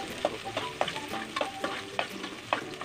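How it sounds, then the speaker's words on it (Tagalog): Garlic, onion and ginger sautéing in a little oil, a utensil stirring them in rhythmic scrapes and taps roughly every half second over a soft, continuous sizzle. "Unahin po natin yung bawang, sibuyas, saka luya. Halo-haloin po natin."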